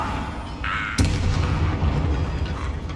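A Bombarda explosion spell in Hogwarts Legacy erupts as a single loud, close boom with a sharp crack, then rumbles on in a heavy low tail over ongoing battle ambience.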